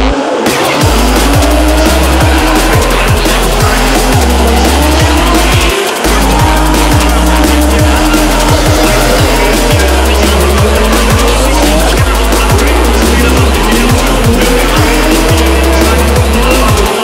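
A drift car on a competition track, its engine roaring loud and steady with repeated tire squeals and skids over the whole stretch, briefly cutting out once before picking up again.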